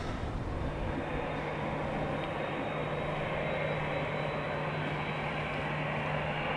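A Boeing Dreamliner jet roars at Amsterdam Schiphol Airport, a steady broad engine rumble with a thin high whine held evenly at moderate distance.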